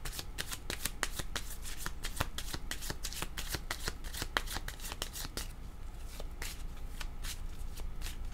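Tarot cards being shuffled by hand in a rapid, steady riffle of crisp papery flicks and slaps, continuous and close, with no talking.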